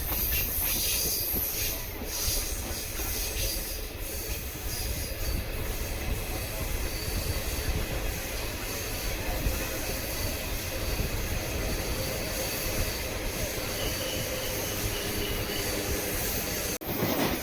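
A Vande Bharat Express, the Chennai Egmore to Tirunelveli service, runs on rails with a steady close rumble of wheels and carriage noise throughout, a loud interior-style drone with faint hiss, ending in a brief sharp click.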